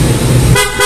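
A Honda ADV scooter's horn gives one short, loud, blaring toot close by, cutting off abruptly after under a second.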